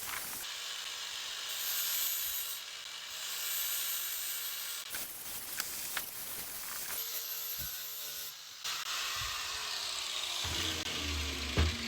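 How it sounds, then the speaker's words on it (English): Air saw trimming excess fibreglass from kick panels for a 1969 Mustang Convertible, a steady high buzzing cut close by with short stops and restarts, no talk over it. "So we've got to trim off all this excess here, which is all like on the sides. We do that with the air saw."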